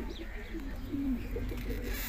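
Fancy pigeons, a Sentinet breeder pair among them, give soft low cooing against a steady background hum, quiet and continuous with no voices over it.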